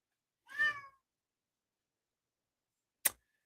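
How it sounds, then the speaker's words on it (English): House cat giving a single short, faint meow, alone in near silence, followed a few seconds later by a brief sharp click. "That was my cat."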